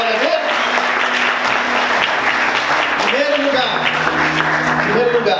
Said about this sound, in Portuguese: Em nome de Jesus, você pode aplaudir ao Senhor por isso